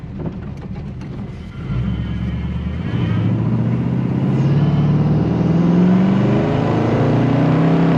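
A 1981 El Camino with a swapped-in V8 accelerates hard, its tires spinning in second gear. The engine note is loud and close, climbing in pitch and building in volume as the revs rise, with no voices over it.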